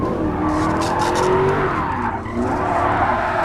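An Aston Martin drifting in GT Sport gives a continuous loud tire squeal and skid over a steady engine drone, the squeal rising and wavering as the car slides.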